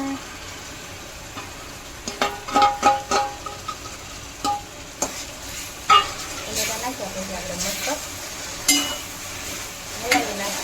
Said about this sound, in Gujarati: હવે આપણે આ નાખી દઈશું ગ્રેવી કરેલા ટમેટા